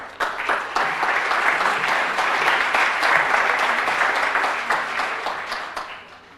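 A conference audience applauds for an arriving speaker, steady dense clapping filling the room for several seconds before tapering off at the end, with no talking over it.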